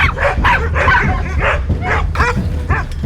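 A pack of large dogs living as a family of nine at the foot of Seoraksan barks excitedly at visitors, with rapid overlapping woofs in a steady stream and no pause.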